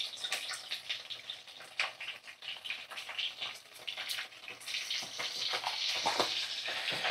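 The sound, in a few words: chicken frying in oil with salt and turmeric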